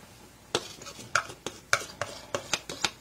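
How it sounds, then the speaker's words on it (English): Two eggs being stirred into a hunters casserole mixture in a bowl, a run of sharp utensil clinks and scrapes at a steady, slightly uneven rhythm, close and fairly loud with no talking. "we're going to stir this together"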